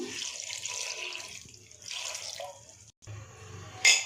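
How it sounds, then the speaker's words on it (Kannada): Water splashes and pours into a metal pressure cooker holding mung beans in a few bursts, with a brief pause and a clink near the end. "ಇದಕ್ಕೆ ಬೇಯುವಷ್ಟು ನೀರು ಹಾಕ್ತಾಯಿದ್ದೀನಿ"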